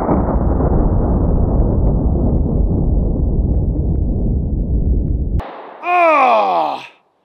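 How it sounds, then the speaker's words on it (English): A Glock pistol chambered in .50 GI fires a single shot of 275-grain jacketed hollow point: one loud, broad blast holding steady for several seconds, cut off abruptly, followed by a short voice-like groan. "have a Glock 50 cal. This is chambered in the 50 GI, and that is a 275 grain jacketed hollow point."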